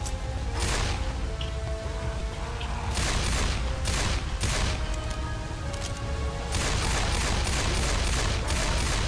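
Bursts of rapid gunfire in Left 4 Dead 2 on the Hard Rain campaign, dense volleys broken by short lulls and heavy rain noise underneath, with no voice.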